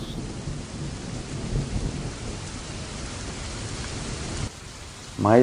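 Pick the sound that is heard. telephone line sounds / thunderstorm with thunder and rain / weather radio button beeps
thunderstorm with thunder and rain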